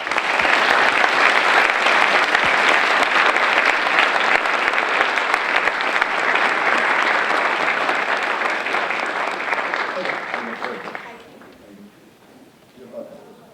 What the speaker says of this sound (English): let's welcome Ms. Sasamori and Professor Hatasa with a round of applause.